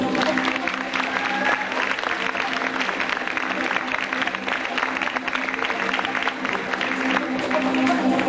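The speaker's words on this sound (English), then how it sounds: "Give a round of applause to Ronan Harris and Jessica Whitty" Applause at a 1998 school fashion show in Bandon, County Cork, a dense, sustained round of clapping from a large audience that fills the hall, with voices mixed in.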